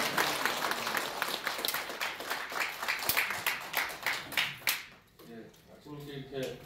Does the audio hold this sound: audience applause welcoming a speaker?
yes